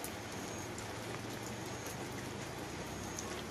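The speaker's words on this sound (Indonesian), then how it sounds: "betul hujannya dari pagi sampai saat ini belum berhenti" Steady rain falls across a rural village, a dense, even hiss of drops on surfaces that continues without pause, fairly close and with no voices.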